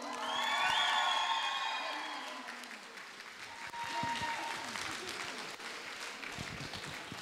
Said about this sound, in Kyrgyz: Бу акем утту дегендер кол чабуулар.